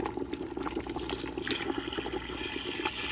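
Concentrated fish stock from a steamed snapper head is poured into a pot, giving a steady close liquid splashing and trickle with no talk.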